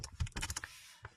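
Quick bursts of keystrokes on the keyboard of a small older laptop, about a dozen close, light clicks in an uneven run that ends with a single late tap.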